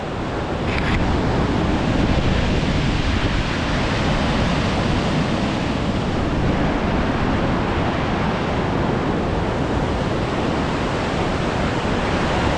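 A waterfall in the Carpathian mountains rushes in a constant, dense roar of falling water that stays loud and unbroken from start to finish, with some wind buffeting the microphone.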